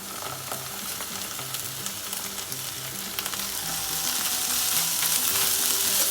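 Ginger garlic paste fries in hot oil for mutton kurma, a loud, continuous sizzle with crackling spits that swells louder toward the end, with no voices.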